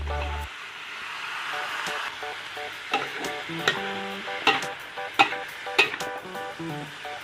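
Pork belly and sliced young luffa stir-fried in a black pan, with steady oil sizzle, scraping spatula strokes and louder clanks as the food is tossed, plus a brief tone at the start.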